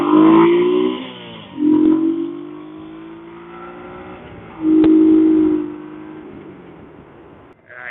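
A Honda Pacific Coast 800 motorcycle accelerates hard nearby, the engine note climbing through several gears with brief dips at each shift, loud and up close.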